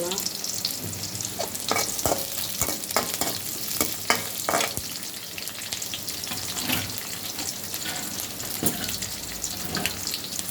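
Onion and green chili fry in hot oil in a pan for a Thanjavur raw mango pachadi, a loud continuous sizzle with bursts of crackling and stirring scrapes throughout.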